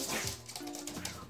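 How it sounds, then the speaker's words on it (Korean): A pet dog at home whimpers in thin, drawn-out whines and gives a couple of soft yips, close by and fairly quiet. "구름이랑 옹심이를 입양하기 전부터 키웠던 우리 강아지예요."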